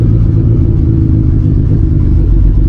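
A Honda Civic EF idles while warming up, its engine producing a loud, steady low rumble close by with no talking.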